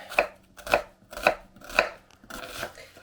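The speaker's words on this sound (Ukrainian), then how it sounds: "І спочатку я поріжу цибулю міленькими кубиками." A knife chops an onion into small cubes on a board during meat-chop preparation: about five crisp, evenly spaced strikes, close and clear, with no talking.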